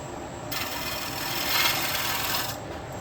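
A 40/40 bowl gouge smooths the outside of a wooden bowl spinning on a lathe, a close, steady scraping hiss of cutting wood that starts abruptly, swells in the middle and stops about two seconds later.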